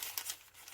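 Thin yellow onion skin paper is handled, giving a short, soft, quiet crinkle of light rustling with no voices.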